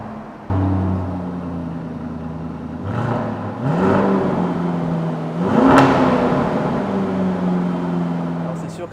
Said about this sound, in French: Il suffit de soulever la petite gâchette et d'appuyer sur le bouton Stop Start pour allumer